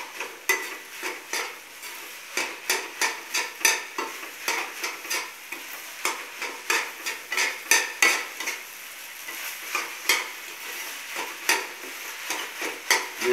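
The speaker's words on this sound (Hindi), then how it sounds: "इसको कुछ देर तक 5-5 मिनट तक फ्राई करते रहेंगे" Jeera rice frying and being stirred in a pan over a high flame, with a steady sizzle and repeated scraping strokes of a spoon against the pan in an uneven rhythm, close and alone.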